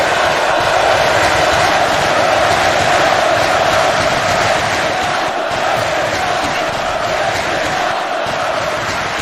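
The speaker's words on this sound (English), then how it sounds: "this crowd was going berserk" A virtual arena crowd at a Roblox WWE wrestling match roars and cheers without a break, a dense wall of shouting that stays loud all the way through.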